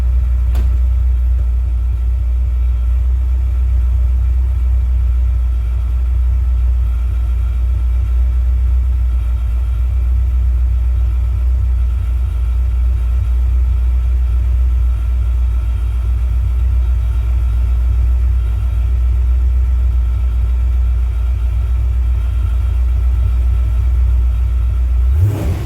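A restored Lingenfelter engine idles steadily at close range, a deep, even rumble with a throbbing low-end pulse that holds unchanged for over twenty seconds before cutting off abruptly at the end.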